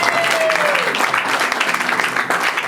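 Steady applause from a crowd at a civil wedding ceremony fills the clip, dense clapping throughout with a brief voice-like tone near the start.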